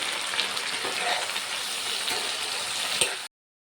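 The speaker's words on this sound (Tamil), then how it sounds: "தக்காளி கொஞ்சம் நல்லா வதங்கிருச்சு" Chopped tomatoes sauté in a pan, making a dense, steady hiss of sizzling with a couple of faint clicks, close and moderately loud, cutting off abruptly near the end.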